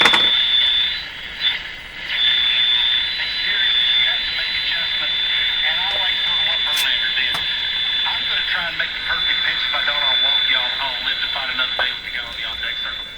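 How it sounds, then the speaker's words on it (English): A GE CL541A ship radio receiver emits a constant harsh high whine that holds steady pitch for the whole stretch, loud and close, over faint background hiss and crackle. "So now we hear a tone."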